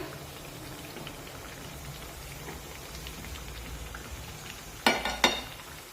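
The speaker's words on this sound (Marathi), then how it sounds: "हे वडे आपण दोन्ही बाजूने छान सोनेरी रंगावर तळून घेऊया" Masoor dal vadas frying in hot oil, a steady soft sizzle and crackle running throughout, with a couple of sharper spattering bursts near the end.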